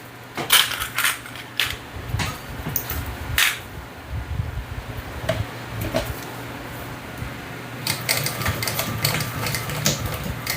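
A sewing machine stitches over zipper teeth on a hip bag, with a steady mechanical whir under repeated sharp clicks and ticks as the needle strikes the teeth, alongside a constant fan hum.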